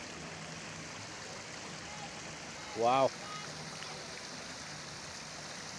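A large city fountain in Birmingham pours about 12,000 litres of water per minute into a lower pool, making a steady, even rush of falling water. A voice briefly exclaims over it partway through.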